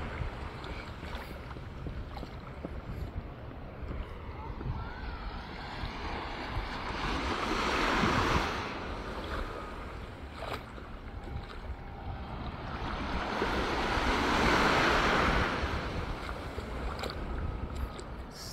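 Ocean surf rolls onto a beach in Antigua, a steady soft wash that swells into two broader surges of breaking waves, faint and somewhat distant, with no talk.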